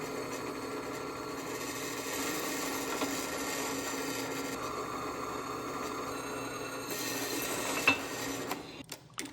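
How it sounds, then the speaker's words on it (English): A power drill boring pilot holes for hitch pins in steel receiver tubes on a food truck generator rack, a steady whirring grind held for several seconds before it winds down and stops with a few clunks. "Now I'm drilling some pilot holes for the hitch pins."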